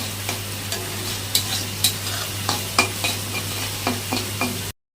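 Chili powder and water cooking together in a frying pan before eggs are added, a close hissing sizzle punctuated by regular sharp scrapes and taps of stirring, ending abruptly.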